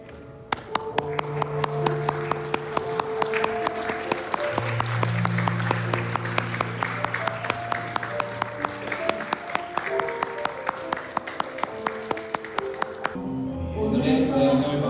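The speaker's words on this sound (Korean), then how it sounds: "우리 신부가 등장할 때 신부가 느끼고 있을 떨림이 설레임으로 바뀔 수 있도록 아낌없는 박수 부탁드리도록 하겠습니다." At a wedding hall, guests greet the bride's entrance with steady rhythmic clapping that keeps time over a slow melodic music track, continuing evenly for about thirteen seconds before stopping.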